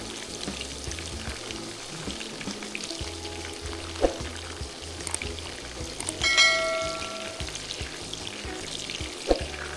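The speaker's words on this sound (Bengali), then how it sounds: "চিকেনের উপরের লেয়ার কিছুটা কুক হয়ে আসলে আমরা কিছুক্ষণ পরপর নেড়েচেড়ে খুব সুন্দর গোল্ডেন ব্রাউন কালার হয়ে আসা পর্যন্ত ভেজে নেব" Chicken pieces fry in oil until golden brown for a cashew nut chicken salad, a soft continuous bubbling sizzle with occasional sharp clinks and a brief metallic ringing tone from a utensil against the pan.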